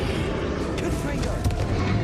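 Confringo fire spell blasts in Hogwarts Legacy, a dense roaring burst with crackling impacts that carries steadily through the whole stretch, with brief sharper flares near the middle and a voice audible underneath.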